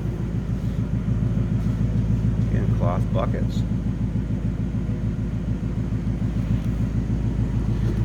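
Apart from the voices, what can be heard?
Ford Mustang GT 5-liter V8 engine low throaty exhaust rumble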